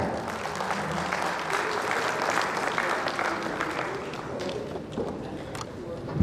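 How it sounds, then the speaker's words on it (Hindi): Audience applause welcoming a speaker onto the stage at a public event with India's finance minister present, sustained crowd clapping for about six seconds, fading slightly toward the end, with some speech mixed in. "आप सभी की तालियों की गड़गड़ाहट के साथ।"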